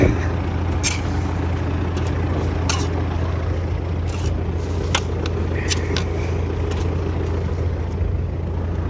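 A tractor plows wheat stubble on a sticky, muddy field, its steady diesel drone continuous and close, with occasional brief higher clanks and squeaks from the plow over the running engine.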